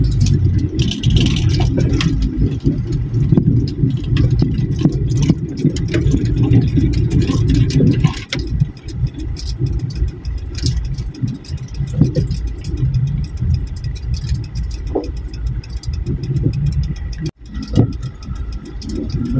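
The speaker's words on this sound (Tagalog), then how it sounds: "Medyo matraffic dito sa labasan, sa gate." Cars idle and creep in congested traffic at a school gate exit on graduation day, a steady low engine rumble held close throughout with a brief dip near the end.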